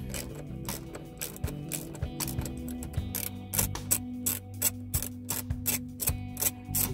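A ratchet wrench clicks repeatedly while unbolting a 10 mm bolt on a BMW E46 M3, the close, steady pawl ticks coming in short bursts with a low hum underneath.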